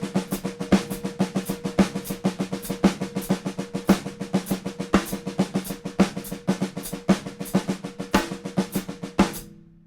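Snare drum playing the 7A sticking from Gary Chaffee's sticking system, one single stroke followed by three doubles, as a fast, even stream of crisp strokes with a recurring accent pattern, moderately quiet, no talking.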